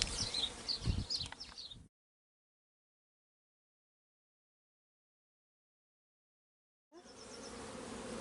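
Honeybees from an opened hive during a split: a dense, close buzzing swarm that cuts to total silence for about five seconds and then resumes.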